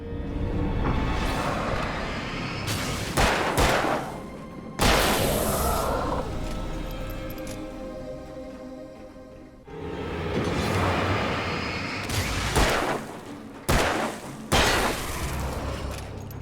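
Revolver gunfire in a video game: several loud, sharp shots spaced a few seconds apart over a dense, continuous backdrop of game noise and effects.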